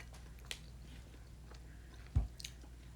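A Reese's peanut butter cup being bitten and chewed, heard as a few faint, scattered crunchy bites and soft mouth sounds in a quiet room, with one louder bite near the end.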